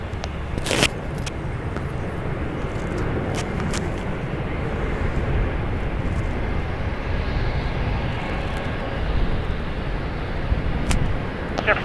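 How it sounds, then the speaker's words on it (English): An Alaska Airlines Boeing 737-900ER, six years old, rolls for takeoff on runway 28 Left at San Francisco International, bound for JFK, a steady broad roar filling the whole stretch with a few sharp clicks on top. "That is Alaska Airlines Flight 30 going to JFK, a Boeing 737-900ER, 6 years old."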